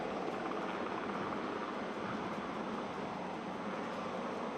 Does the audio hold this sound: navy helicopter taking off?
yes